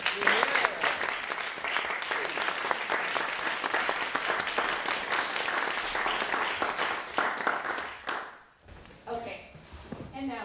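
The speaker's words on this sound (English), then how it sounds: "So if we could just give them a round of applause." Audience applause after a senior film scoring presentation, a dense round of clapping that holds steady for about eight seconds, then drops off sharply before a voice starts to speak.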